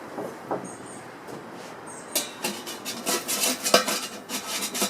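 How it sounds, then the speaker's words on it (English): A metal extension ring is fitted onto a Cobb grill, giving a string of close, bright metallic clanks and scrapes that grow busier in the second half, with no talking. "Put the extension ring on."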